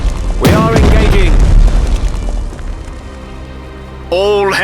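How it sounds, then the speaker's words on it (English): Naval guns roar in rapid fire during a sea battle in a strategy video game, a loud booming blast followed by rumbling, then another heavy boom near the end, with brief game voice chatter. "Rapid fire! We are engaging."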